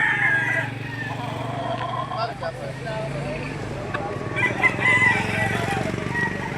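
Roosters crowing and chickens clucking at a Lipa, Batangas poultry auction market, birds from Taal, several crows overlapping close by over busy crowd noise and people talking throughout.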